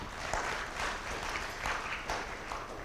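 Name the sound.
conference audience applause for presenters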